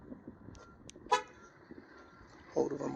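A Nissan Altima chirps its horn once when locked by remote, a short clear toot, followed later by a faint second sound amid quiet background.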